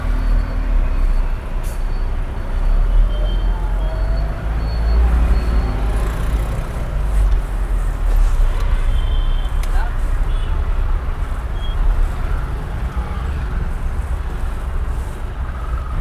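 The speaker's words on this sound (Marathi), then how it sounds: "गाड्या काही थांबायचं नाव घेत नाही" Continuous road traffic with vehicles passing one after another, a loud, steady low rumble and hiss with no breaks, while voices talk faintly underneath.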